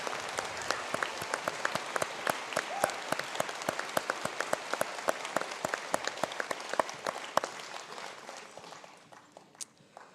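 A large audience at a university conferring ceremony gives a round of applause for graduating students, steady dense clapping that stays even and then thins out toward the end as the hands gradually stop.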